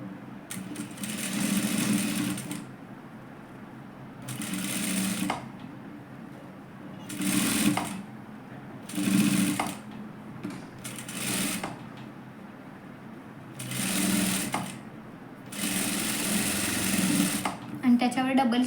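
A sewing machine stitches a katori blouse in repeated bursts of a few seconds each, close by, with someone speaking quietly in the pauses between runs.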